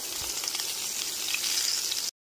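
Eggplant pieces fry in hot oil, a dense, steady bright sizzle close up, with a soft knock near the start before it cuts off abruptly.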